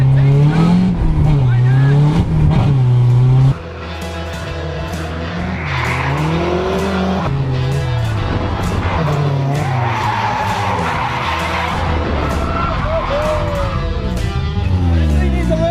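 Drift car from a pro drift garage skidding and burning its tires, a loud continuous roar of engine and screeching rubber with shifting engine pitch, sustained throughout at close range.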